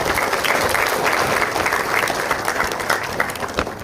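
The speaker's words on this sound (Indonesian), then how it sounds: "Tepuk tangan buat mereka bertujuh." Sustained audience applause during a university public lecture in Indonesia, a dense, even crackle of many clapping hands, fairly loud and near, steady throughout with no speech on top.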